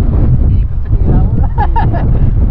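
Strong wind buffeting the microphone at a cold seaside fishing spot, a steady low roar under the whole stretch with brief gusts, and faint voices or other sounds rising faintly near the end.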